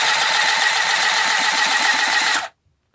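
A small handheld sewing machine motor buzzes steadily at high speed for a couple of seconds, then cuts off abruptly into silence.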